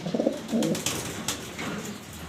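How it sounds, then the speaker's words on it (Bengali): A male spangle-coloured German Beauty pigeon coos softly nearby in a brief low, throaty burble against a light background hiss, with no talking. "এটা আমার কবুতর স্পেঞ্জের কালার জার্মান বিউটি"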